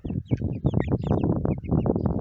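Several hens cluck busily and overlap in quick, uneven bursts, close by, with a few higher squawks mixed in.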